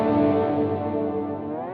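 Darker reverb setting on a guitar pedalboard effect, a sustained wash of guitar tone with steady, dense harmonic tails that hold evenly and fade slightly, heard alone without talk.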